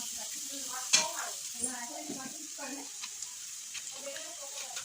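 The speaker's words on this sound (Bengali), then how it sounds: "এবার আমি মেশাবো আদা বাটা, রসুন বাটা" Ginger and garlic paste stirred into onions frying in a pan, a steady sizzle with scraping spoon strokes and a sharp clank near the start, with no talking.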